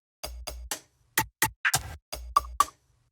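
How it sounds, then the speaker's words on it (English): Layered percussion loop from a deep minimal house track, with dry, punchy hits in a sparse syncopated pattern, a few tonal blips and one longer noisy shaker-like hit, played alone. "After that, we have the percussion, which is a lot of layers, and it all together sounds like this."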